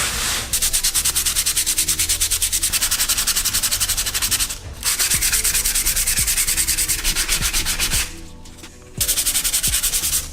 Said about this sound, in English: the main reason why I'm sanding these down is to make sure they're even